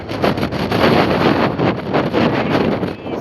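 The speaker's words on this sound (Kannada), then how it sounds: "ಗಾಳಿ ಸಿಕ್ಕಾಪಟ್ಟೆ ಗಾಳಿ ಗಾಳಿ ಗಾಳಿ ಗಾಳಿ ಬನ್ನಿ." Strong wind buffets the microphone in a loud, continuous roar that rises and falls in gusts, with no voices.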